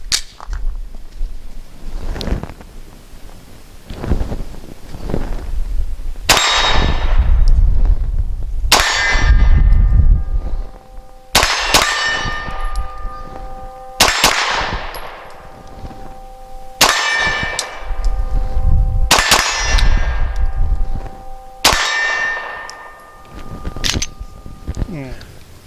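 Masada pistol rounds cracking off at a shooting range, each shot followed by a ringing clang of steel targets, several spaced shots with lingering metallic rings and talk between them.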